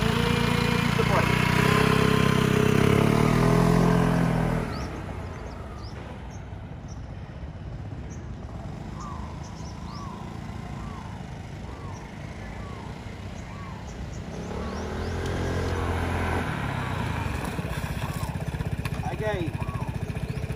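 A scooter engine idles in the open, then swells into a louder revving hum as throttle is applied with the brakes held. It drops back to a quieter idle and later rises again, with a person talking over it.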